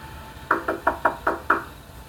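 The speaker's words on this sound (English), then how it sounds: "There was no doorbell, so I just knocked really hard." Six firm knocks on a door, evenly spaced in a quick steady rhythm, close by with a quiet room behind.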